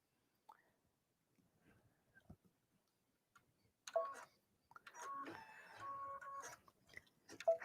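Embroidery machine starting a Valentine's heart design: a few faint ticks, then steady mechanical whirring and rapid stitching clatter building up close, with a louder burst at the end.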